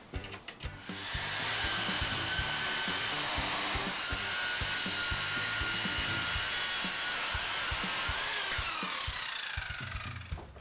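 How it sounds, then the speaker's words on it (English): A circular saw run along a straight edge cuts a pine desktop to size, spinning up, then roaring in one steady cut for about eight seconds before winding down, heard close and fairly quiet. "a straight edge and a circular saw just to cut to the finished size"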